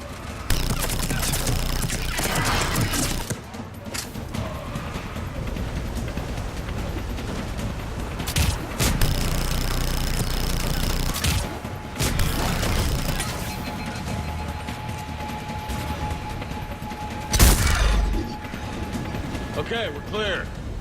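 Gunfire and impacts in a Mass Effect 3 firefight, with several loud broadband bursts standing out from a dense, noisy battle bed while voices talk over the action.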